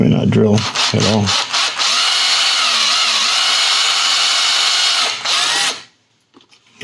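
A high-pitched electric drill with a dull 3/16-inch bit whines steadily into a plastic model kit for several seconds after a few short bursts, then stops, leaving near silence.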